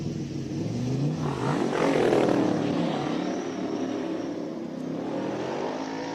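A 1965 Shelby Daytona Coupe with a 5.7-liter V8 races up a hillclimb course, its engine a steady loud roar that swells and peaks near the middle, then holds at a sustained drone as it passes.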